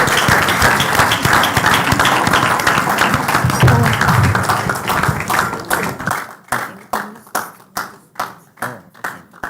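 A conference audience at a fertility event applauds a doctor coming up to speak: dense, loud clapping for about six seconds that thins to a few slow, separate, isolated claps at the end.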